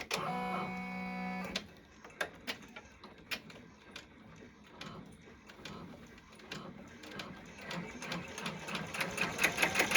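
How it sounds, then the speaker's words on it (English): A sewing machine stitches a short line across the bottom of a fabric bunny softie, starting with a loud steady motor whir, then pausing, then running in rapid rhythmic needle clatter that builds in speed and loudness. "So this is going to stitch just a little line right across the bottom."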